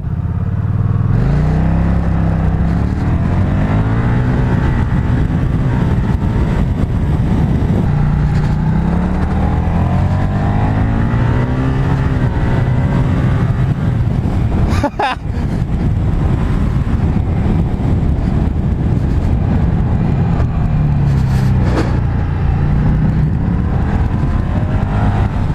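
An Aprilia Mana 850 GT motorcycle in full automatic mode revs hard and launches away, its pitch climbing through several gear changes with a steady roar, close and loud throughout.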